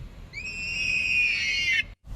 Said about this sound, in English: Whenever I roll the driver window down, it sounds like somebody screaming.